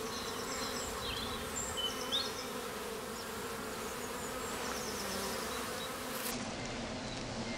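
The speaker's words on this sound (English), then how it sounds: "you can see the bees coming in with lots of pollen, and that's predominantly hazel." Honeybees buzz steadily around two hives, a national and a commercial, at a winter apiary where foragers return laden with hazel pollen; a dense, close, continuous hum with individual bees droning past, no talk.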